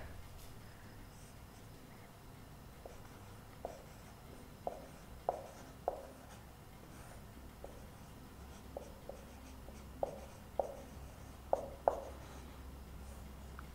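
Marker or chalk strokes on a board come as a series of short, light taps and scratches with an irregular rhythm while points are written out. They sit faintly over a low, steady room hum, and no one speaks.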